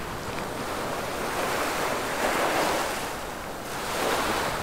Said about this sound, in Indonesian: Muara sungai yang sangat besar.